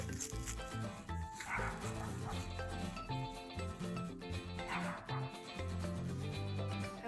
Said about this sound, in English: there's a lot of dogs around here